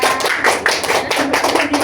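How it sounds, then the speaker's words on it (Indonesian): A classroom group claps together in a dense burst of overlapping hand claps, steady and fairly loud, with no pauses between them. "Tepuk tangan buat Kak Iva."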